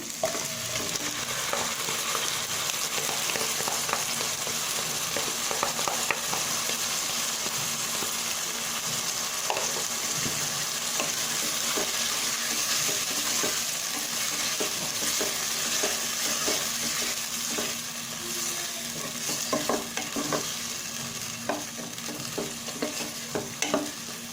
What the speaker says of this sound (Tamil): சிக்கன் ஒரு 5 நிமிஷம் வதங்கணும்